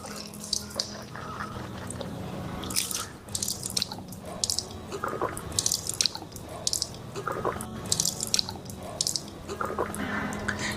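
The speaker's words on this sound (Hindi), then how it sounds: "3 मरतबा कुल्ली करेंगे" Water splashing and dripping near a sink as the mouth is rinsed three times during Islamic ablution (wudu), with uneven bursts of running and swishing water over a steady background, no talking.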